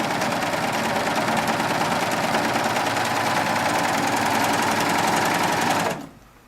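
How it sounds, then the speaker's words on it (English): An industrial cover stitch sewing machine fitted with a belt loop binder, set for a wide cover stitch, runs at a steady, loud, fast mechanical chatter for about six seconds before stopping abruptly, leaving only faint room noise. "It's folding both sides down, and then we have it set up for the wide cover stitch right now."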